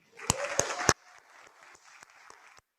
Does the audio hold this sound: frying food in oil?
no